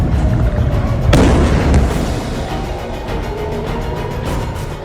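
A missile fired from Iran explodes over the city of Haifa: one sharp, loud blast followed by a continuous heavy rumbling roar that slowly fades. No voices are heard.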